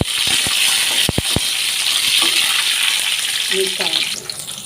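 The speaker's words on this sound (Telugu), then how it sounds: "ఇప్పుడు పచ్చిమిర్చి వేసుకుందాం. ఒక 5-6 పచ్చిమిరకాయలు వేసుకున్నాం నేనైతే." Five or six green chillies fry in hot tempering oil with lentils for a roasted brinjal curd chutney, a loud steady sizzle close up, broken by a few sharp taps of a spoon stirring the pan.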